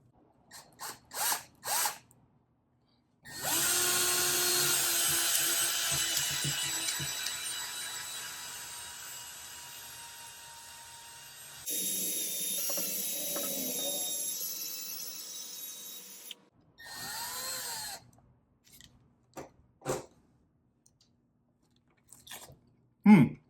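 A power drill whirs in long bursts while being used on fruit for apple pie, loud high-pitched spinning broken by pauses, clicks and a short second run.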